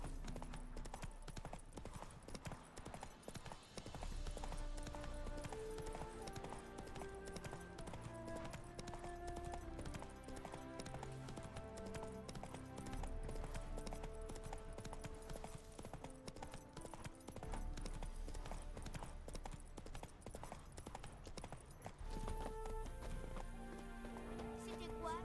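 A horse's hooves clip-clop steadily in The Witcher 3 video game, a continuous trotting beat under voices and game sounds.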